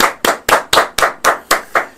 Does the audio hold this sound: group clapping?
yes